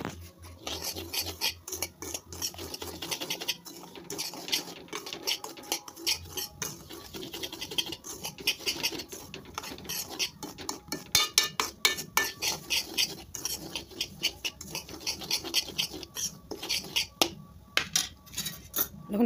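Dry semolina being fried and stirred in a pan, making continuous scraping, rasping strokes of a spoon against the pan bottom, close and fairly loud, with no talking.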